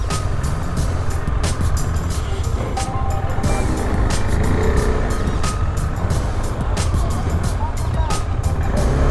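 Heavy road-clearing machinery from the Border Roads Organisation works a landslide-hit muddy mountain road at Chhiyalekh, a steady loud engine rumble with clanks and scraping close by, people talking throughout.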